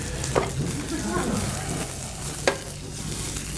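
Thin spring greens crisping in a hot pan for a sautéed trout dish, giving a steady close sizzle with a couple of sharp spits and pops, no talking.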